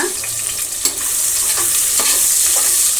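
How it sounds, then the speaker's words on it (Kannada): Thinly sliced onions fry for chicken biryani in a loud, close, continuous sizzle, broken by a few scraping stirs of a spatula against the pan. "ಚೆನ್ನಾಗಿ ಫ್ರೈ ಆಗಬೇಕು ಈರುಳ್ಳಿ ಬ್ರೌನ್ ಕಲರ್ ಬಂದುಬಿಡಬೇಕು"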